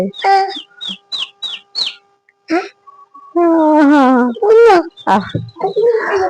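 A small chicken chick cheeps in short, high peeps while being handled, a few in quick succession, followed by a voice close by and more chirping mixed with talk.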